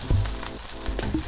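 Egg fried rice is stirred in a hot sizzling pan, a close frying hiss broken by quick scraping and tossing sounds over about a second.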